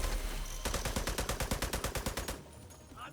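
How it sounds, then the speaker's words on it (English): A loud, close burst of evenly spaced rapid shots in the shooter game Rise Up Scout, around a dozen sharp cracks in quick rhythm lasting under two seconds before cutting off to quieter background. "They're shooting at somebody."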